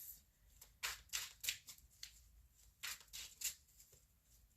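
Tarot cards being shuffled by hand in repeated quick riffling bursts, close and fairly quiet, with short pauses between the shuffles and no talking.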